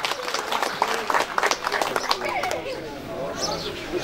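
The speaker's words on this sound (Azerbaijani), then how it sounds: "Sizin alqışlarınızın sədaları altında." An audience at a 9 May 2018 veterans' honouring ceremony in Mingachevir claps in a dense burst that thins out after a couple of seconds, with speech and chatter mixed in.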